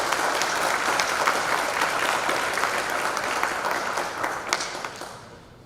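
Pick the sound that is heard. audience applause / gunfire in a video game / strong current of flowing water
audience applause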